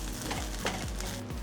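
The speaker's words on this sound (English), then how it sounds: "I just need to keep mixing until the rice is fried evenly" Chicken and shrimp fried rice is stir-fried in a pan, a constant sizzle under repeated scraping strokes of a utensil stirring the rice, close and steady.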